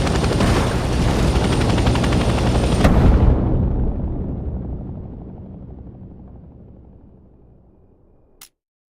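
A helicopter engine in the Vietnam-era video game Hell Let Loose roars loudly, then winds down and fades over several seconds before cutting off abruptly.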